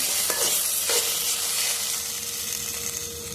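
Crispy potatoes stir-fried in hot oil, giving a steady bright sizzle with a couple of scraping stirring strokes near the start, close and continuous with no voices.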